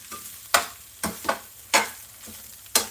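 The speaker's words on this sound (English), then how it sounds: "So now you just want to get it totally mixed in." Fried potatoes with pork chorizo are stirred in a pan, five or six sharp scraping strokes at irregular intervals over a faint continuous sizzle, close and unhurried.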